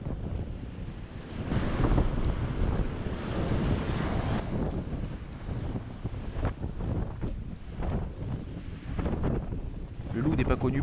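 Rough winter sea near Marseille, heavy waves surging and breaking in white foam along the shore, a continuous roar with repeated crashing swells, mixed with gusty wind buffeting the microphone.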